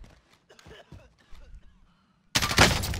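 A voice talks briefly, then a sudden loud burst of gunfire erupts in Call of Duty Warzone, dense cracking shots close by that continue steadily to the end.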